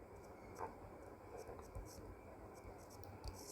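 Marker or chalk scratching across a board during a Class 9 maths lesson on circles, a quiet, steady run of soft scraping strokes with a few slightly sharper taps over a low background hiss, fairly close and without clear speech.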